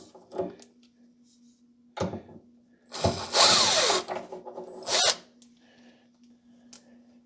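A power drill backs screws out of a cabinet in short whirring bursts, several brief runs separated by pauses, close and fairly loud over a faint steady hum.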